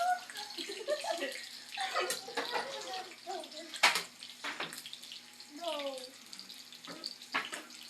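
Running water splashes while dishes are washed at a sink, an uneven rush with clinks, heard under chatter and laughter from several people in a workplace setting.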